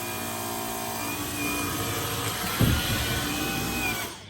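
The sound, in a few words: Dyson V15 cordless vacuum cleaner vacuuming on auto mode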